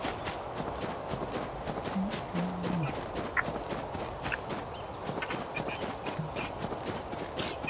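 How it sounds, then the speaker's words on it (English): Horse in the survival game Rust clip-clops along with a steady run of hoof hits at moderate distance, a brief low snort or whinny partway through. "Oh, we've got a horse here."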